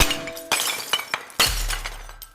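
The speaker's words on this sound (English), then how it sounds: "dishes shattering with no one nearby" Dishes and glass shatter in a few sharp crashes, each followed by tinkling fragments, loud and close with no voices.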